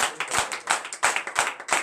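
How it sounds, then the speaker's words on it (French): A church congregation at a morning prayer service claps together in acclamation, giving about half a dozen sharp, rhythmic claps at a moderate distance with no talk. "Au nom puissant de Jésus-Christ de Nazareth, donnons l'acclamation à l'Éternel."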